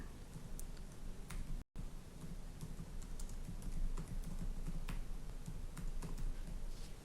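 A computer keyboard clicks in quick, uneven bursts as a space name is typed, each keystroke faint and close, with a brief gap of silence early on and no voices.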